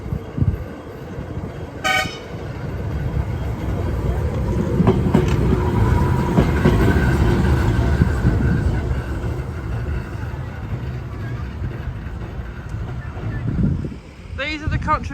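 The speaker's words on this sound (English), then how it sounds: "One of the illuminated trams." An illuminated Blackpool tram, HMS Blackpool, rolls past on the seafront during the 2023 illuminations, a steady rumble swelling and fading with a sharp horn toot near the start and another near the end, crowd noise and voices around it.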